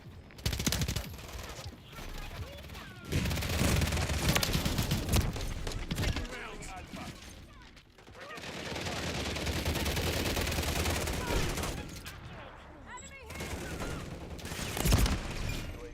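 Call of Duty Modern Warfare 3 multiplayer erupts in dense, continuous gunfire: rapid automatic bursts and overlapping shots rattle on for the whole stretch, loud and close, with a brief lull midway and voice callouts mixed in.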